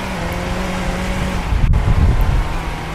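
A car accelerating in Roblox Car Driving Indonesia, its steady engine drone rising into a louder rumbling surge partway through, close and continuous with no one speaking.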